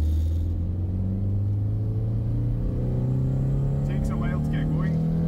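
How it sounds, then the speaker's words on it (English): A 1989 Toyota MR2 AW11 with a 4A-GE engine pulls hard at full throttle in second gear, a steady loud engine drone with rising pitch over road rumble, brief voice-like sounds near the end. "So second gear, with this car 4AG you need to keep the revs up, so let's floor it in second."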